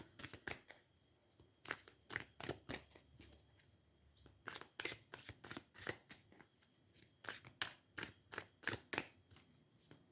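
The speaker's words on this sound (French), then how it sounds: "Je vais quand même prendre quelques cartes du Light Tire Tarot." Tarot cards are riffled and shuffled close up in a fast run of crisp, slapping bursts, then drawn with a few scattered flicks and more shuffling, all quiet and with no voices.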